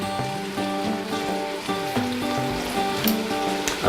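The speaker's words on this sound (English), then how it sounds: "It's a little easier dumping the small cans in here." Sauce from small cans is dumped into a pot, a wet sloshing pour with glugging and splattering that runs continuously for a few seconds, close and fairly loud.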